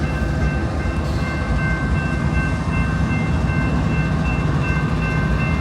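A bunch of train engines rolling right through the middle of a small South Dakota town, a continuous low rumble and mechanical drone with steady tonal whine, fairly close and unbroken.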